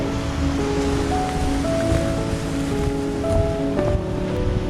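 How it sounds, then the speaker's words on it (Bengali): Strong wind drives sea waves crashing onto the shore at Dinard on France's Emerald Coast, a loud continuous roar of surf and spray with no talking. "দারুণ দারুণ ঢেউগুলো কি সুন্দর আছড়ে পড়ছে"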